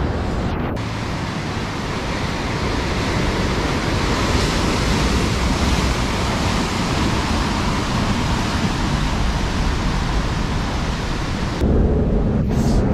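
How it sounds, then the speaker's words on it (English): Loud, steady roar of surf crashing nearby, a continuous wash of breaking waves with some wind rumble, no voices. "those waves look hella sketchy"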